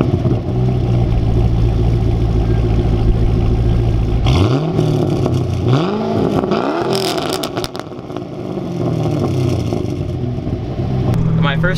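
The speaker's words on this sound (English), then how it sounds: "This is the one with the 6-liter V8. It sounds really good. It has an aftermarket exhaust." A 2006 Pontiac GTO with a 6.0-liter V8 and an SLP Loudmouth aftermarket exhaust idles with a deep, loud rumble close by, then gives several sharp throttle blips that rise and fall before settling back to idle.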